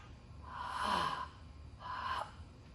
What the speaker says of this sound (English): So what I've got to do is breathe out